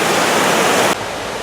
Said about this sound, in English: You can hear the roar as the water cascades over these cool rocks.